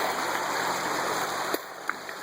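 River water on the Tuscarawas rushing steadily over a gold sluice, a dense close hiss of flowing water with a couple of brief knocks near the end.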